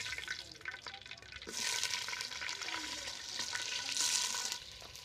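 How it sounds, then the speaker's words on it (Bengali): Mutton fries in hot mustard oil inside a handi pot, giving a steady close sizzle that swells louder partway through and holds a bright hissing crackle to the end, with no talking. "প্রথমে আমি ভেজে নেব।"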